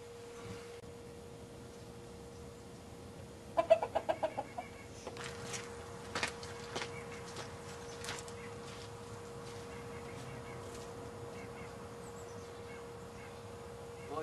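A chicken clucks in a short burst of close, sharp calls, followed by a few scattered softer clucks and small knocks against a quiet, faintly humming background.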